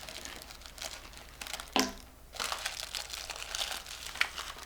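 Paper crinkles and rustles up close as small pieces are folded and glued down with hot glue for a pumpkin garland craft, with one louder crumple in the middle, no talking.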